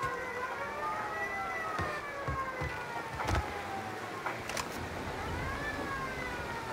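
A video game police siren in Mafia wails in rising and falling sweeps at a distance, with occasional thumps and clatter mixed into steady background noise.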